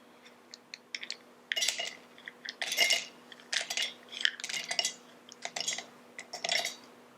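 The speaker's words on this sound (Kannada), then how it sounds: "ಈಗ ಉರಿದಿರುವಂಥ ಬಾದಾಮಿಯನ್ನು ಜಾರ್ಗೆ ಹಾಕ್ಕೊಳ್ಳೋಣ" Roasted almonds are tipped into a mixer jar in quick bursts, a series of light, close rattling clinks and ticks as the nuts hit the jar.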